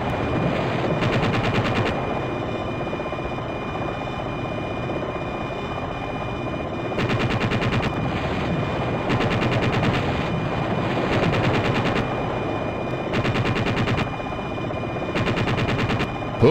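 Helicopter chain gun in Jane's Longbow Gold firing repeated short bursts of rapid gunfire over a constant rotor and engine drone, the bursts spaced every second or two across the whole stretch.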